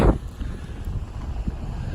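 Steady low rumble of wind buffeting the microphone, continuous throughout with a gusty burst at the start.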